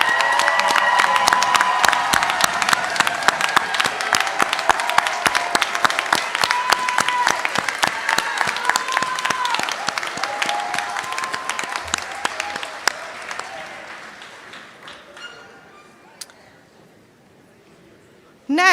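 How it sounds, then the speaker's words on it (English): Audience at a university commencement ceremony gives a long round of applause for graduates' families, dense clapping with some cheering that holds steady, then gradually thins and fades to near silence at the end. "Graduates, let's give them a round of applause."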